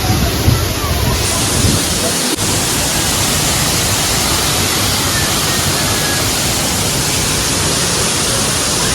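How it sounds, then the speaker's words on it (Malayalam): Strong wind blows at Anayadikuthu waterfall near Thodupuzha during the rainy season, with the falls running full. A loud, constant roar of air and rushing water continues throughout, with a brief dip partway through. "നല്ല കാറ്റും ഉണ്ട് കേട്ടോ."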